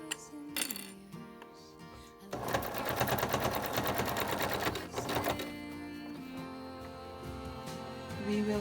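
A sewing machine stitches the bottom edge of a fabric face mask in short bursts, then runs a longer continuous rattling stretch before pausing and resuming at a slower pace, close and fairly quiet.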